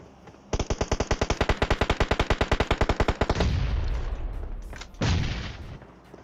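Rapid automatic gunfire in the mobile battle royale game PUBG Mobile, a long burst of about thirty evenly spaced loud shots followed by a rumbling tail and one more heavy blast near the end.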